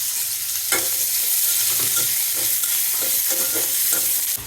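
Ash gourd, shrimp and black cumin fry in hot oil, a loud continuous sizzle broken by repeated scraping stirs of a spatula, close up with no one speaking.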